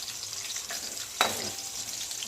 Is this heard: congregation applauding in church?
no